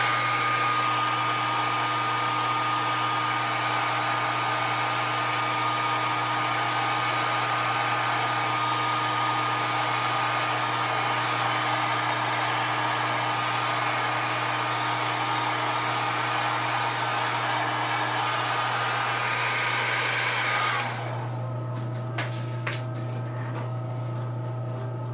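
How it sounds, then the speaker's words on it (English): Hair blow dryer running steadily to dry paint on an anime model kit, a loud constant whooshing drone with a steady hum that drops abruptly near the end as it is switched off. "And then come here with the blow dryer, see if we can clear it up faster."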